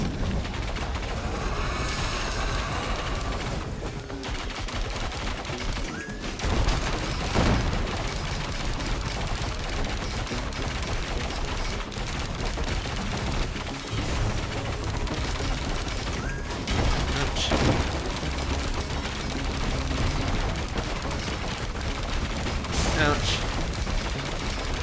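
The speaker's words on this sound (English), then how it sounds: "super rapid fire weapon" Super rapid-fire weapon shooting during a Risk of Rain 2 run, a dense continuous barrage of fast shots and mechanical clatter sustained for the whole stretch alongside other game noise.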